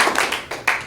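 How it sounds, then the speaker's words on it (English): Applause from a small office meeting audience: a few loud, close hand claps in quick succession, lasting about a second. "I just want to give you a round of applause"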